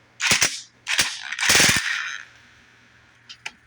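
A Wild Edge 1/2-inch drive electric impact wrench, set to reverse, loosening a single nut: three loud close rattling hammering bursts, the longest near the middle, then two brief faint clicks.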